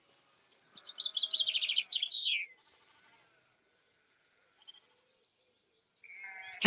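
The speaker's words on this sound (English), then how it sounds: "Just looking down at these lambs and the sheep." Sheep and lambs bleating on an outdoor walk, a burst of overlapping high calls early on, then quiet with a faint call before a louder noise at the end.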